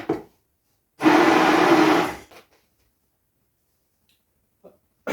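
A kitchen blender whirs through a chocolate banana milkshake in one loud, steady burst of about a second, then cuts off, leaving near silence with a few faint knocks.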